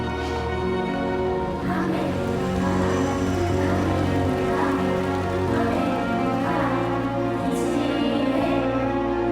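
Steady rain in the video game Death Stranding 2, a continuous wash of patter under a sustained musical drone, moderately loud with no talk.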